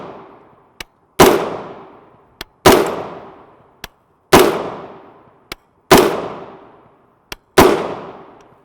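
Rifle firing 5.56x45mm 55gr FMJ M193 ammunition outdoors: four loud, sharp shots about 1.5 seconds apart, each with a long decaying echo, plus fainter distant cracks from other shooters in between.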